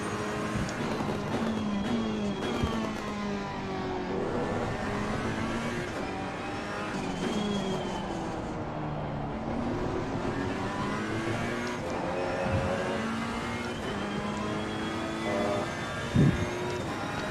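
A Ferrari race car engine at Silverstone in Assetto Corsa Competizione drones continuously, pitch rising and falling through shifts as it laps, loud and steady with other cars faintly nearby.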